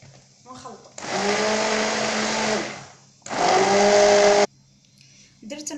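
Blender mixing milk into a thick strawberry milkshake, two loud whirring bursts of a few seconds each separated by a short pause, with a quiet voice heard briefly before and after.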